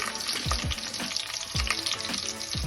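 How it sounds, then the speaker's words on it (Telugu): Onions sliced into thick wedges fry in a pan for veg pulao, a steady close sizzle running throughout with several soft stirring knocks and scrapes of the spoon, no voices. "ఇవి కూడా బాగా ఫ్రై చేసుకుందాం"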